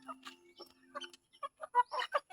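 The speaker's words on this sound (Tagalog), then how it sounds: "mga alagang manok" Pet chickens on a farm cluck in short, scattered bursts, close by and fairly quiet, with brief pauses between calls.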